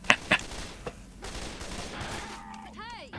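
Auto shotgun fire in the video game Left 4 Dead: a couple of sharp blasts at the start, then further game sounds and a rising electronic effect near the end, with a voice faint underneath.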